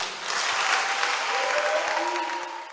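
A church congregation at a Sunday service claps and applauds in praise of God, a steady, dense wash of many hands sustained throughout and easing slightly at the end, with faint voices mixed in.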